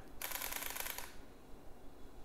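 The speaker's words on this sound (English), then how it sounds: "you would have just heard them, we've taken 7 photos very quickly" A Lumix GH4 camera fires a rapid burst of seven HDR shutter clicks, a dense cluster of quick mechanical clicks lasting about a second, close and fairly faint, then quiet room tone.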